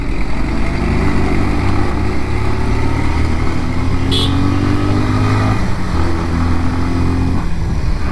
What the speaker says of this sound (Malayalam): പൾസറിൻ്റെ ആ ഒരു സൗണ്ട് എന്ന് പറയുന്നത് ആ ഒരു മിഡ് റേഞ്ചിലാണ്